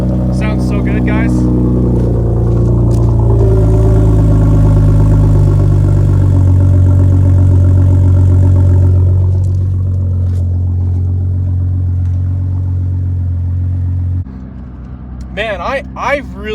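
A Ford 3.5 EcoBoost truck idles through an SPD trombone-loop muffler, a deep steady drone that dips lower partway through, with someone talking over it.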